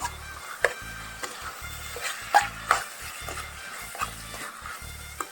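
A dish being stirred in a pan after two spoonfuls of black pepper powder go in, with repeated scraping strokes at a steady rhythm and a few sharper clinks of a utensil against the pan, close and fairly quiet.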